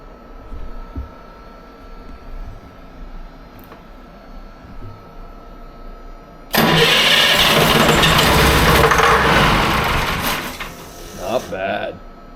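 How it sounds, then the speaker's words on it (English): An electronic Detroit Diesel 453 engine cranks and fires from cold, bursting into a loud, steady roar after quiet surroundings, running hard for several seconds before dropping off, with a few sputters at the end. "Let's see if it cold starts."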